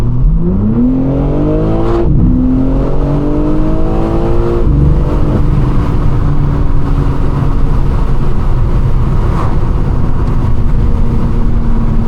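BMW G80 M3 fitted with a valve controller and mid-pipe, exhaust revving up in loud rising sweeps, then settling into a steady, refined drone close by.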